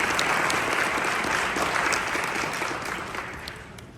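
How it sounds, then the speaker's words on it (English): An audience at a live real-estate training event bursts into full, steady applause that holds strong, then gradually thins and softens toward the end. "Hey, give him a big round of applause."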